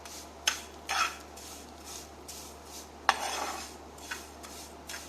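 Vermicelli is stirred as it roasts in ghee, with a spoon scraping and clinking against the pan in uneven strokes over a faint background hiss and no talking.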